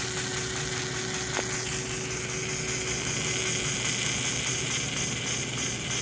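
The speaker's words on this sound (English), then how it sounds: "I can speed this up and you can hear the chuff. I mean, there's some gear noise, okay, but the chuff is right there" An American Flyer Atlantic model steam locomotive converted to digital sound runs with a continuous steady mechanical hum, rapid chuffing and gear whir at an even level close by, with a faint tone early on.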